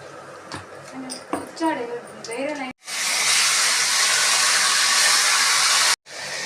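Biryani spices tossed into hot oil for a chicken curry base give a loud, steady sizzling hiss that starts abruptly after a stretch of talking and keeps going for about three seconds before briefly cutting out.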